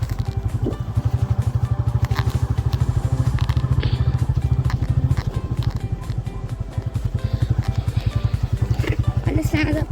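Three motorbikes ride along a forest road, their engines thumping in a steady rapid pulse close by, with rattles and bumps from the rough track.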